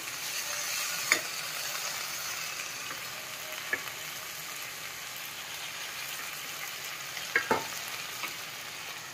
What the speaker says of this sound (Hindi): भून जाएगा ये टमाटर गलने तक, इसको भून लेते हैं।